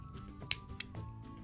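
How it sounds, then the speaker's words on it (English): Two quick, crisp snips of scissors trimming the yarn end of a crocheted headband, close and quiet in an otherwise still room. "And then trim it."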